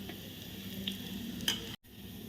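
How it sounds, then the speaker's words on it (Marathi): Asafoetida and turmeric sizzling in hot oil with mustard seeds and cumin in a home kitchen, a soft, steady crackle with a few light pops, faint and close, briefly cutting out near the end. "आता घालूया हिंग आणि हळद"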